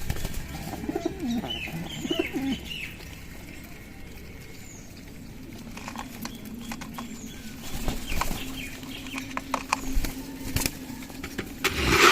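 Racer and giribaz pigeons cooing softly in a loft, low throaty coos amid faint wing flutters and scattered bird calls, with distant traffic hum in the background.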